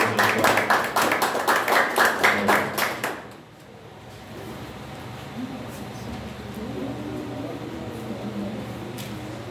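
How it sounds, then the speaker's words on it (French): A church congregation claps together at an evening service in a strong, rhythmic unison beat of about a dozen claps. The clapping stops abruptly, leaving quiet room tone with faint voices in the background. "On va applaudir le Saint-Esprit de Dieu dans cette soirée."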